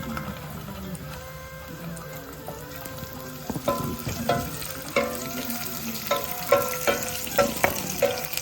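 Cashews and raisins frying in ghee for Onam ada pradhaman, a steady close sizzle with clinks and scrapes of a spoon stirring against the pan that grow sharper and more frequent toward the end.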